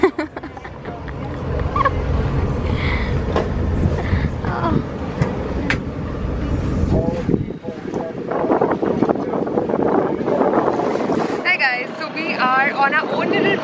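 A small boat chugs across the water with heavy wind buffeting the microphone and faint voices chatting in the background.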